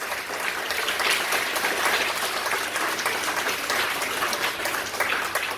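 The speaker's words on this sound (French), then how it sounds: "Jean-Claude Madeleine, maire de Sinamari, on applaudit bien fort, s'il vous plaît." An audience claps steadily, a dense wash of hand claps that holds at an even level without speech.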